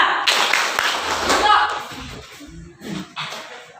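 A class of children clapping hands in a classroom, a short burst of claps mixed with voices and an adult speaking over them.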